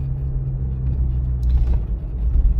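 A car rolls slowly along a rough, poorly surfaced street during a driving exam, a low steady engine rumble with bumps and thumps from the uneven road, close and continuous.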